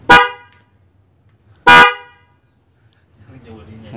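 Two loud, brief blasts of a Denso snail-type dual-tone car horn on a Toyota Agya 1.2, close by, separated by a pause, followed by faint background noise.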